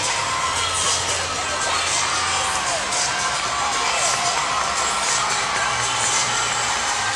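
A gymnastics arena crowd and teammates cheer for the Florida Gators at the SEC Championships, a steady, loud wash of shouting, whooping and cheering that never lets up.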